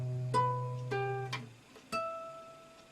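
Guitar chord accompaniment from a beginner lesson: a sustained low tone with several plucked chords struck at uneven intervals, each ringing out with clear harmonics, played alone.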